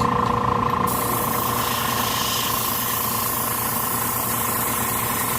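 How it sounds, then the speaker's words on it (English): Harder & Steenbeck Colani airbrush spraying paint from about two inches away in a broad pattern, a steady continuous hiss of air with a low mechanical hum beneath it, close and unbroken throughout. "let's flip this around and see how broad the spray pattern this airbrush can produce"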